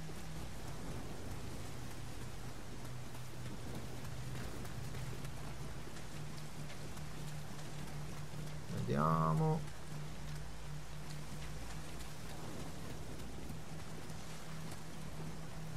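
Steady rain in the Nioh video game, falling constantly as a soft even hiss throughout, with a brief louder tonal sound rising midway.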